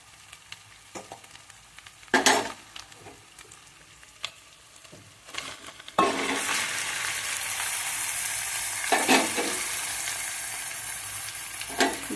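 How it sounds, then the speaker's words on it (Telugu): Chicken for a curry is stirred in a pan, with a few scraping clatters at first and then a bright, continuous sizzle of frying from about halfway through. "ఇప్పుడు చికెన్ వేసుకోవాలండి."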